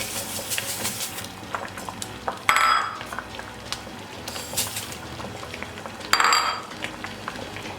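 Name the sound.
carrot kheer bubbling as it boils in pot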